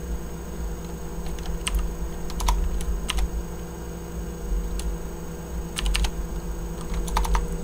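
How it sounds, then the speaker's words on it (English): Computer keyboard typed in quick bursts of clicks, clustered in short runs with pauses between, close and moderately loud over a steady low electrical hum. "Typing skills on point."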